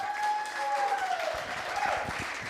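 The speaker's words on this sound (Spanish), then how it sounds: "Se vale darle un aplauso a Jesús." Church congregation applauding for Jesus during an afternoon service, a brief round of hand claps with a few cheers and sustained shouted voices rising over it, the clapping growing sharper toward the end.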